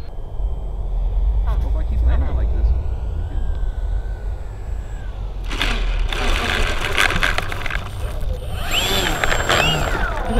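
An inexpensive radio control airplane takes off from grass, its electric motor whining and rising in pitch, nearby at first and then moving off, with people talking over it.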